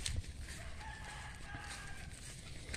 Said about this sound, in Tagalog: maraming mga alagang manok din kami dito